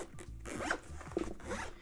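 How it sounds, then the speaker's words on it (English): A zipper opening or closing on a hard shell AirPods Max case with rubbery silicone zipper pulls, several short close-up rasping strokes in quick succession. "you can zip this thing open or close"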